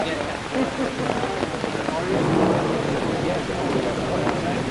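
Steady rain pours down at an outdoor ceremony at a war memorial, a dense, continuous hiss of drops striking surfaces close by, with no clear voices over it.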